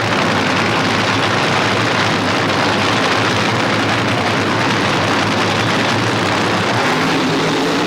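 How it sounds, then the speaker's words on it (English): Drag racing cars in the final at the 1981 NHRA Gatornationals make a loud, continuous engine roar that fills the whole stretch with dense, unbroken noise. "Gordy Bonham is pulling into the staging beams for the final in the odd number year of 1981"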